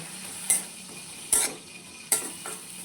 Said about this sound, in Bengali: আমি এটাকে আবার এরকম করে ভেজে নেব